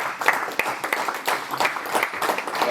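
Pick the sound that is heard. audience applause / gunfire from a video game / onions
audience applause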